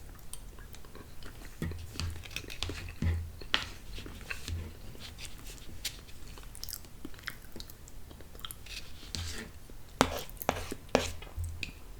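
Close, crisp chewing and crunching from someone eating Hormel Mary Kitchen corned beef hash, with repeated bites and wet mouth sounds in an irregular rhythm, no talking over it.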